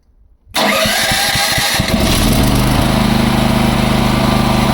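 A Champion 7 kW gas-petrol generator, running on gas, is hand-started after a short quiet moment, catches immediately and settles into a loud, steady, close engine drone.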